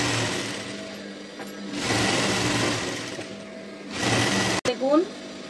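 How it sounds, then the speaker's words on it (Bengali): A sewing machine runs in bursts while topstitching salwar pants, its steady mechanical whir stopping and starting close by, with a person speaking over it. "এই যে চাপ সেলাইটা আমি এটা দিচ্ছি, দেখুন এই চাপ সেলাই দেওয়া হচ্ছে।"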